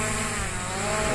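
SJRC F11S quadcopter drone motors spinning up as the throttle rises, a steady, loud, buzzing whine from close by that holds evenly with no talk over it.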